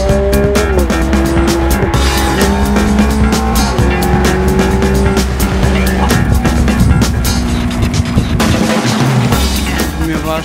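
A Ferrari driven hard around the circuit of a safety training centre, its engine roaring loudly and continuously close by with shifting revs and gear changes, tire noise and wind mixed in, while people talk underneath.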